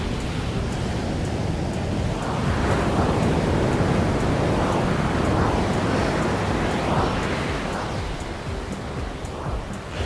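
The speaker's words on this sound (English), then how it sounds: "it's like a soundtrack to the workout, the waves crashing in the background" Ocean waves crash and wash in steady surges behind an outdoor workout on a bright day, a continuous roar of surf with gentle swells in loudness and some wind noise.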